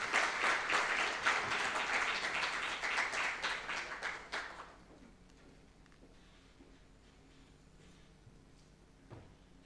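At an insurance brokers' conference in Mbarara, Uganda, the audience claps loudly for an arriving speaker, a dense burst of applause lasting about four seconds before it cuts off, leaving quiet room tone with a few faint knocks.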